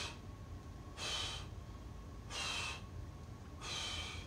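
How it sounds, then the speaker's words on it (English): Heavy, forceful breaths during a goblet squat, three loud airy bursts about 1.3 seconds apart, each one a sharp inhale or exhale, close to the listener over low background rumble. "Hence the breathing in before helps tense everything up and protects the joints."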